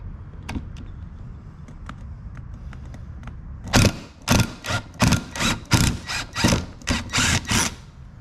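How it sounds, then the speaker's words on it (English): Stainless screws are backed out of an aluminum boat jack plate with a hand tool, giving quiet ticks at first, then a rapid run of loud, close ratcheting clicks in short bursts. "I'm gonna take these screws out here."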